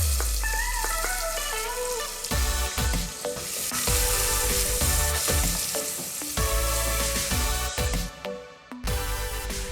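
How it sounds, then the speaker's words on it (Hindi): Finely chopped medium onion dropped into hot oil with urad dal, crackling and sizzling steadily with repeated spoon scrapes and stirring knocks against the pan, close and fairly loud, no talking. "अब मैं डाल रही हूँ इसमें एक मीडियम साइज प्याज, जो मैंने बारीक काट लिया है"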